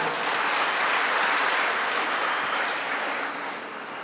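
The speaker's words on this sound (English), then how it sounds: "a round of applause for you all the parents" Parents in the audience at a first-year engineering college orientation programme applaud in a steady, dense wash of clapping that fades slightly toward the end.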